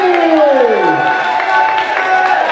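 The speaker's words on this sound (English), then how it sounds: "So please give a big round of applause for Lucie!" A school crowd cheers and applauds a student contestant at Applefields School, with a loud rising-and-falling whoop over dense, continuous clapping and crowd noise close by.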